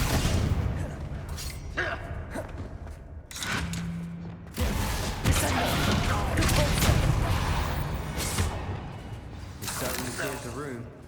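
Bombarda and Confringo spell blasts from Hogwarts Legacy, coming as several booming impacts and bursts mixed with combat clatter, while voices shout over and between the explosions.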